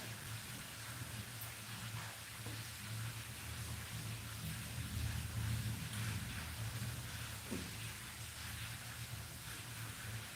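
Steady rain falls through the night, a dense, even wash of patter with a low rumble beneath, continuous and unbroken throughout.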